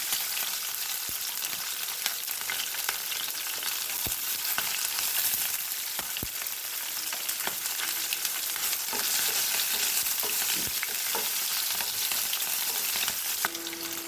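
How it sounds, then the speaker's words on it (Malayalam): Green chilies sizzle in hot oil after mustard seeds have popped, a close, continuous frying hiss broken by occasional sharp clicks and spatters from stirring. "ആദ്യം നമുക്ക് പച്ചമുളക് ഇട്ട് കൊടുക്കാം."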